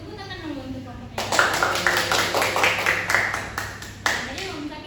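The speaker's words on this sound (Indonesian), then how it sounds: "tepuk tangan dulu untuk kelompoknya" Students in a classroom break into applause for a group, a burst of many hands clapping that starts suddenly and carries on in uneven waves, with voices talking underneath.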